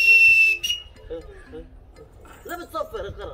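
A person gives a short, loud, high whistle right at the start, followed by a clink and then children's voices talking.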